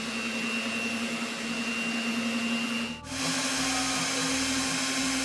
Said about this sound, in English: we're going to go ahead and put this on just the first setting, the lowest setting that you have on your mixer